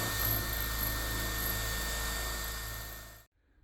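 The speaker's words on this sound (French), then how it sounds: "pour faire sauter les rivets à la perceuse." A power drill whirs steadily as it drills out rivets from an old floor rail in a van, loud and close for about three seconds before cutting off abruptly into silence.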